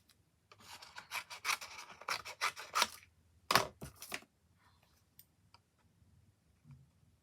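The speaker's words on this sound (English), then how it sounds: "Get my big scissors." Big scissors snip away excess paper in a quiet close-up craft session, a run of crisp rasping cuts and one sharper snap before the sound tapers to occasional faint clicks.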